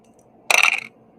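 Dice tumble in a tabletop football game, a single short rattling clatter on a hard surface lasting under half a second, close and loud in an otherwise quiet moment.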